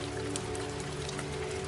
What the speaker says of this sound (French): La pluie continue de plus en plus.